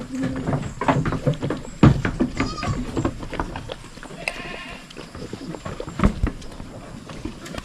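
Several goats crowd around feed, with a busy patter of munching, knocks and shuffling, close and fairly loud, and a few short bleats breaking through.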